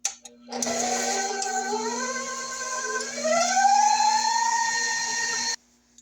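An electric mixer whirring through butter, sugar and oil in a bowl, a steady motor whine that rises in pitch as it shifts up to a higher speed, running continuously before cutting off abruptly.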